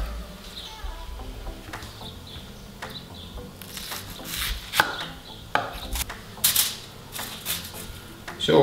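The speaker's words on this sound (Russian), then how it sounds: "Лук нарезаем кольцами, не очень тонко, толщина где-то около сантиметра." A knife slicing an onion into rings about a centimetre thick on a cutting board, with a run of crisp, close chopping taps at an uneven pace and no speech.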